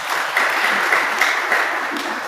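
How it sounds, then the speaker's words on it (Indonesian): A short burst of steady applause from a church congregation, broad and even with slight pulses of clapping, alone without talk. "Tepuk tangan dulu buat Tuhan Yesus."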